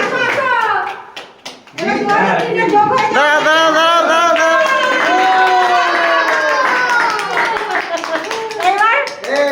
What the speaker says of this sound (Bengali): হাততালি সবাই হাততালি দাও